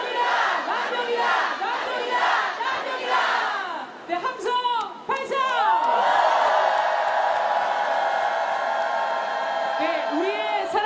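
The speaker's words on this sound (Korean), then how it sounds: "함성 발성!" A protest crowd at a rally outside Seoul City Hall shouts together in loud, sustained unison, with rhythmic chanted bursts giving way to a long collective roar that carries on to the end.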